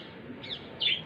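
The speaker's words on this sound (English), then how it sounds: "Oh, there are birds speaking." Short, high bird chirps outdoors after construction noise, two brief calls with the second louder, over a faint background hiss.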